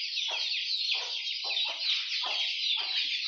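A flock of poultry on a farm keeps up a continuous, fairly quiet chorus of overlapping clucks and gobble-like calls, with repeated short bursts standing out over a steady hum of birds and no talking.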